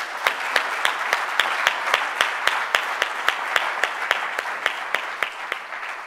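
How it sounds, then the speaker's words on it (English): At a tech conference talk, an audience claps in a steady, evenly spaced rhythm, each sharp clap standing out over a continuous wash of applause for several seconds. "in the spirit of more applause, join me in thanking our community and promotional partners"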